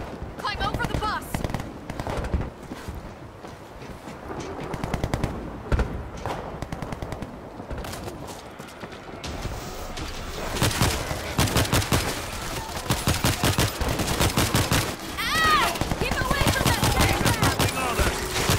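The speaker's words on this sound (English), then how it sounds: "Gunfire up ahead." Rapid bursts of automatic gunfire and scattered single shots from the video game World War Z Aftermath, set in Rome, crackle loudly and continuously, with voices talking over the shooting.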